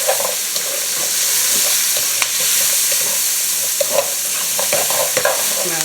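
Whole onion and garlic fry in a seasoned pan, a steady loud sizzle running throughout, with a few sharp clinks and scrapes as the pan is stirred.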